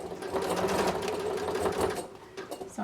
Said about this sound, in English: I actually think it's a little bit easier to sew with the binding down